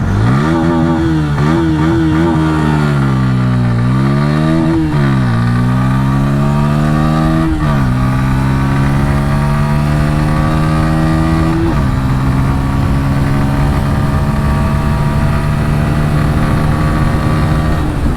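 Bajaj Pulsar P150 motorcycle accelerating hard through its gears in a 0 to 100 speed run, engine pitch rising and dropping at each upshift, loud and close with steady wind noise throughout.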